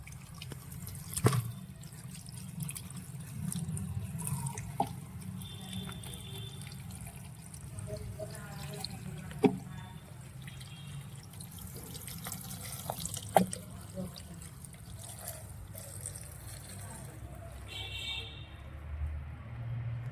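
Guavas being washed under running tap water, a quiet continuous trickle and splash with occasional sharper knocks, going on for a long stretch with no talking.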